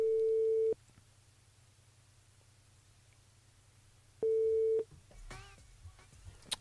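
A steady electronic ring tone sounds in two long bursts separated by a pause as a call goes out to a radio show participant, with a low hum underneath and some clicks and a brief voice at the end.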